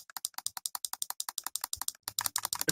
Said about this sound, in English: It's an Apple mouse.